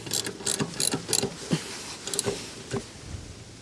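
A 3/4 inch torque wrench tightens a tow hitch on a Tesla Model S, giving close, sharp ratcheting clicks in short, uneven bursts with brief pauses between strokes.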